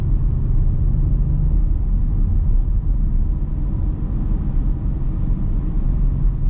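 A 2021 Audi RS6 Avant engine under acceleration, a loud, steady low rumble heard from inside the car, without talk.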